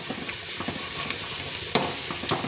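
A tempering for drumstick leaf dal fries in a pan. Soft sizzling runs under light, irregular spoon clinks and scrapes against the metal, close by, with no voices.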